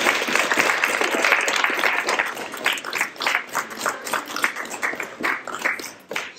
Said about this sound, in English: can we just have a round of applause for